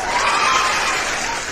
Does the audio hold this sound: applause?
yes